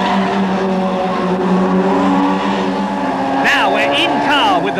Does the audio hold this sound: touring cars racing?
yes